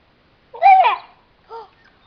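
A bird calls twice in short, chirpy bursts, the first longer and warbling, the second a brief pair of tones, close and fairly clear against silence.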